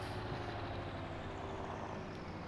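Big Bud tractor from Farming Simulator 19 driving, a steady loud engine drone with a low rumbling hum that holds constant throughout.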